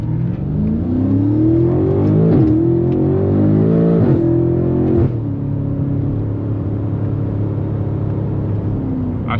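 A BMW F90 M5 pulling away from a stop sign, its engine rising through revs with quick upshifts that make the pitch drop and climb again, loud and close from inside the cabin, settling into a steady cruising drone; no talking.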